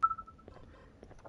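A phone keypad button beeps in the Garten of Banban video game: one bright tone at the start that trails off, then quieter clicks and faint game noise.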